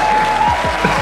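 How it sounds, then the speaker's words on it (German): A short burst of applause lasts about a second, a bright hiss of clapping mixed with a steady thin tone. "Das ist doch Applaus wert."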